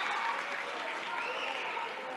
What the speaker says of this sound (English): Crowd still going crazy.